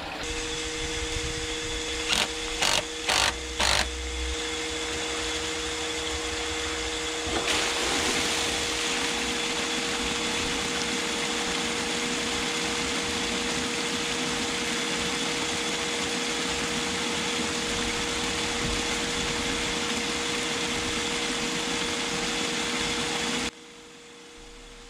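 A low-head water turbine runs during a test as a steady, loud mechanical whir and hum with a constant tone. A few brief knocks come early, the sound grows fuller after several seconds, then cuts off abruptly near the end.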